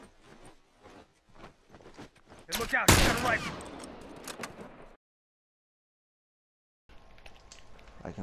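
Rifle gunfire in a video game comes as a burst of loud, rapid cracks around the midpoint after a few scattered sharp hits, then cuts to silence before quieter game sounds return. A voice talks faintly at the start.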